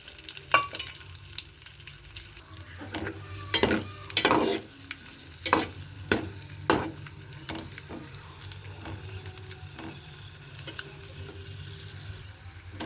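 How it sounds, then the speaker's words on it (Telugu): Cashews and raisins frying in hot ghee for wheat rava jaggery halwa, a continuous quiet sizzle broken by a series of sharp spoon clinks and stirs, no talking. "ఇప్పుడు నెయ్యి కరిగి కాగింది కదండి ఇప్పుడు ఇందులోకి జీడిపప్పు వేస్తున్నానండి అలాగే కిస్మిస్ కూడానండి"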